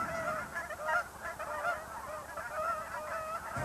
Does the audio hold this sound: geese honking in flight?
yes